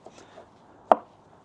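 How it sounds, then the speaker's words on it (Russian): A knife cuts an onion into half rings with a single sharp chop on a cutting board, a close, distinct strike after a near-silent pause. "Нарезаем лук как угодно, произвольно."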